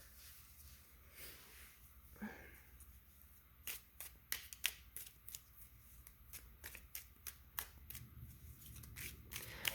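Tarot cards are shuffled and drawn at close range, with soft rustling giving way to a run of quick crisp card snaps and flicks at an uneven pace, quiet with no talking.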